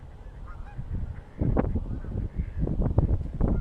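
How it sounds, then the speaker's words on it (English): Geese and ducks honk loudly in a squabble outdoors in Rockford, Illinois, rapid overlapping calls that start after a quieter opening and continue in bursts. "We got a turf war of ducks and geese."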